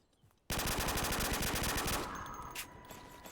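Rapid automatic fire from the R70 weapon in Garry's Mod with a Call of Duty weapon pack, a loud sustained burst of closely spaced shots that begins abruptly after a brief quiet moment and then tapers slightly near the end.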